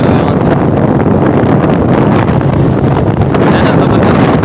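Cold wind blows outdoors on a drizzly, rainy day, a loud, constant roar buffeting the microphone for several seconds with no letup.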